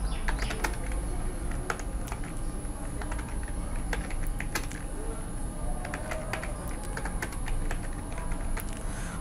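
Computer keyboard typing as an app description is written, a steady patter of quick, light key clicks throughout, fairly close against a faint high background hum.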